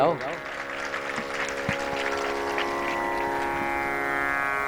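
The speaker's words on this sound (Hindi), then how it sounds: "जोरदार ताली बजाओ" Listeners at a Hindu Bhagavat katha clap loudly for the preacher. The steady applause mixes with sustained harmonium-like musical tones and continues through the whole stretch.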